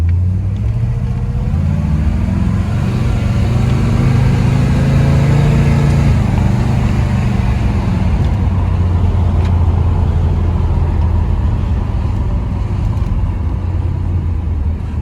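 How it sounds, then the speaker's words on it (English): A 1972 Chevrolet Nova on a test drive, its engine giving a loud, steady low rumble with a slight rise in pitch as it accelerates, heard close up without any talk. "We're going to go for a little test drive."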